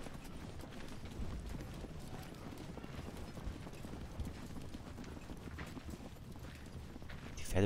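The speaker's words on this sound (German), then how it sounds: "Kannst du deine Pferde abstellen." Rapid hoofbeats of horses galloping in the video game Ultimate General: Civil War, a steady, dense clatter, moderately loud and continuous with no talking.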